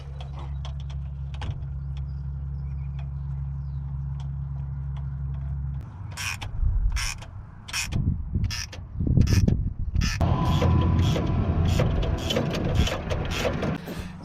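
Work on a 1977 Ford F600 carburetor: a steady low mechanical drone fills the first half, then loud, irregular metallic clanks and bursts of ratchet clicking follow as a wrench loosens the old carb.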